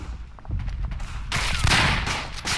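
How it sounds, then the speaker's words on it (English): Mortar fire in the trench warfare game Verdun: a burst of heavy explosions and rattling gunfire erupts loudly after a quieter start, with sustained booming blasts and debris noise; no speech. "Jesus, calling mortars again."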